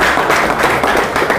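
A crowd at a political party rally in India gives loud, steady applause, dense clapping filling the whole moment with no break.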